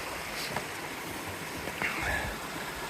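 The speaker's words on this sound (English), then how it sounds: "The water's nice and it sounds nice" Stream water flowing beneath a slippery wooden footbridge on a winter hiking trail, a soft continuous wash with light splashes and a few brief bright trickles, faint and close.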